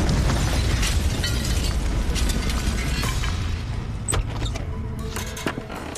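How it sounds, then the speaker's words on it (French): A dense, roaring blast of a parcel bomb exploding in an apartment, with crackling pops and scattered sharp bangs, gradually easing but staying loud throughout. "un colis piégé camouflé en cadeau explose dans l'appartement de Mark Tony."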